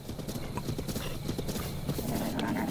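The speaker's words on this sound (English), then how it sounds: "I've got a horse" Horse hooves clip-clop in a steady trotting rhythm while riding in the open-world video game The Legend of Zelda: Breath of the Wild, moderately quiet, with a voice faintly audible in the background.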